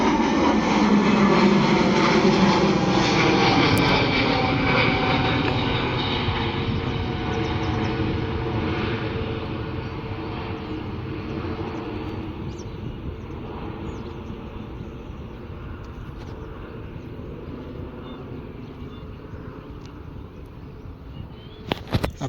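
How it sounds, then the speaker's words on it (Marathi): An IndiGo passenger jet takes off at Navi Mumbai airport, its loud broadband engine roar strongest at first and then slowly fading as it climbs away, with no talk over it. "हा इंडिगोची फ्लाईट आहे. ही आता थोड्या वेळात टेकऑफ होत आहे."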